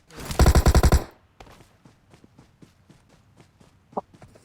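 Gunfire in PUBG Mobile: a loud rapid burst of about seven automatic shots, then quieter footsteps and faint scattered clicks and thuds.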